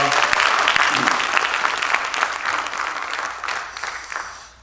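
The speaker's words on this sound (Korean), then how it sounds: "이분들을 격려하는 박수로 한번 하겠습니다." Applause from a church gathering honouring its secretarial officers at a new association president's inauguration, a dense, steady wash of many hands clapping that slowly thins and fades over several seconds.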